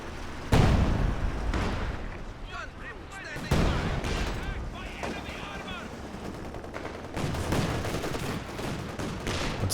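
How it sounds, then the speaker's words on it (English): A ZiS artillery barrage in Company of Heroes 2 lands as two heavy booming explosions a few seconds apart, with rattling gunfire and rumbling battle noise running throughout. "Comes the Zis barrage"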